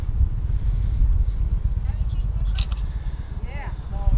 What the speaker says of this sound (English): Of course, the wind's got to pick up.